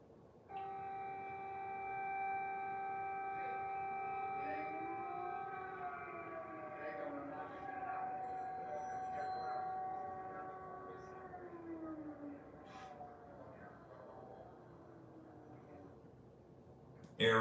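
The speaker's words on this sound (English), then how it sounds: "now what you're going to be able to see here is the air raid sirens," Air raid sirens wailing across Kyiv, several sustained tones rising and falling together at a distance, steady and moderately loud for most of the stretch before fading, with a brief sharp noise at the end.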